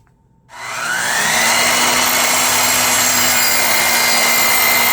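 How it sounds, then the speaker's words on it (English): A power saw cuts quarter-inch wood stock into an octagonal box base, starting abruptly after a brief quiet moment and then whining steadily and loudly with a broad, even roar that holds to the end. "Now I'm cutting the 1/4 inch stock for the base of my box in an octagonal shape."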